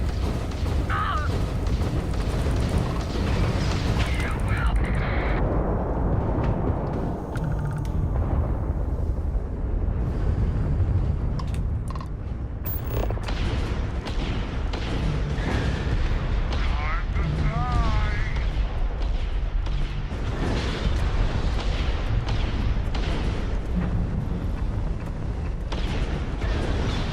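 Dense bursts of gunfire and booming explosions from Starfield, a sci-fi video game, roll on loud and continuous while a player talks excitedly over the combat.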